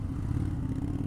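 Close, loud engine note from a 2025 Indian Super Scout Limited motorcycle as it stalls, a short rough burst of rumble with no speech.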